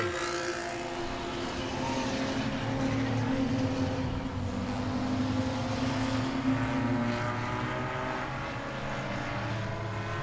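Enduro race car engines roar steadily past down the front straightaway at Langley Speedway, a continuous loud motor drone with shifting pitch as vehicles go by, no talking.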